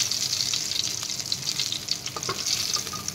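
Fish frying in hot oil for a home-style fish curry, a steady close sizzle with crackling pops throughout and a few brief clinks near the end, no voices.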